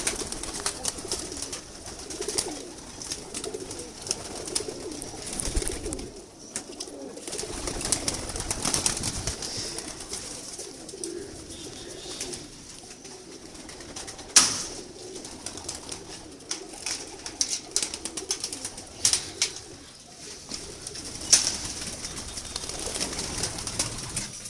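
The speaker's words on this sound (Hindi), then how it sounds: "ये देखिए दोस्तों, माशाल्लाह बड़े शानदार कबूतर हैं।" Soft, repeated cooing from a group of fancy pigeons kept by a hobbyist, low throaty calls running throughout over steady background noise, with a few brief flutters and sharp clicks.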